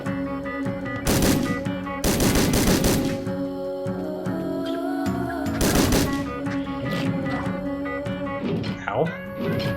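Gunfire in the video game Nongunz, repeated bursts of loud rapid shots in several clusters, mixed with game music and effects while a person talks.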